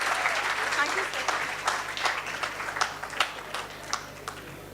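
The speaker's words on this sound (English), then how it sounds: "please, everyone kindly give a big round of applause to all the awardees" An audience at a military management institute convocation claps for the awardees, a spread of scattered hand claps rising and thinning over a few seconds, with a faint low hum underneath.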